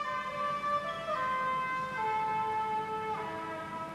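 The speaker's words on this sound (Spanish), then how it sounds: "me encuentro con un joven tocando la trompeta en la calle en mitad de la noche" Sustained trumpet notes held and stepping between pitches, played in a London street at night, loud and reverberant outdoors, with a faint background hum and no voices.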